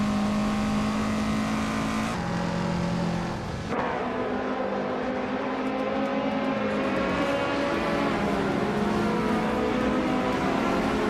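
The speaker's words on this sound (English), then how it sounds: "Maya is driving a 1993 Lancia Delta HF Integral." A 1993 Lancia Delta HF Integrale races in a video game, its engine droning steadily and loud with pitch shifts as it changes gear, joined by the rush of other cars around it.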